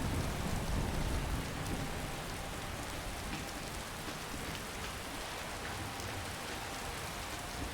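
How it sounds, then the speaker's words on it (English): Steady heavy rain pours down, hissing evenly over a low, distant rumble of thunder that is strongest at the start and then fades into the downpour. "Okay, the thunder sounds really real."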